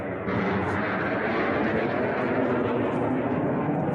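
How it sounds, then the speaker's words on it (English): A Ukrainian MiG-29 fighter jet fires an air-to-air missile at a Shahed 136 drone, heard as a loud, steady broadband jet and rocket roar that fills the whole stretch without letup. "Here we're going to watch a Ukrainian MiG-29 fire off an air-to-air missile in an attempt to shoot down a Shahed"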